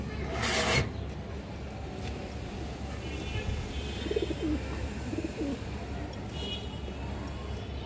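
Pigeon cooing in a home loft, soft low coos partly masked by a loud burst of noise at the start and steady background hum, with no talk.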